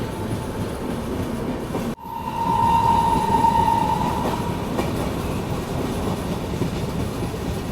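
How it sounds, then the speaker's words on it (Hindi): A passenger train rolls into New Delhi station with a steady rumble of wheels on rails, marked by a sudden jolt near the start and a sustained squeal of brakes or wheels, heard from close by. "सामने से कोई तो ट्रेन आ रही है।"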